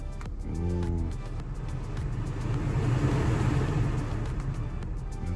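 A Volvo XC60 engine cranks briefly, then catches and settles into a steady idle, heard up close with no one speaking.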